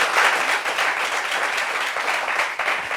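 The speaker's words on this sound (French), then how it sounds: "Applaudissements pour lui." A room full of people claps loudly and steadily for a few seconds in a dense wash of applause. No one speaks over it.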